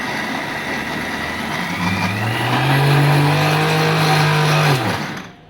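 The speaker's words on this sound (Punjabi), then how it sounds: "ਲੋਜ ਜੀ ਦਾਲ ਹੁਣ ਆਪਾਂ ਗ੍ਰਾਈਂਡਰ ਨਾਲ" A mixer grinder grinds chana dal in one loud sustained run, its motor whine rising and holding steady for a few seconds before cutting off abruptly, with no voices.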